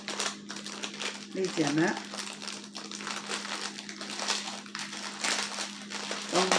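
Packaging for a DAC being unwrapped in a kitchen, with crinkling and crushing of wrapping through most of the stretch and someone speaking French over it.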